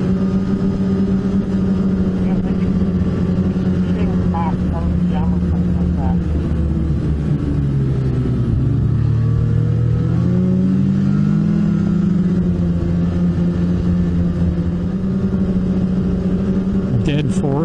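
Old snowmobile engine revving hard up to its rev limit, a loud continuous drone that rises and falls in pitch, with a voice speaking over it.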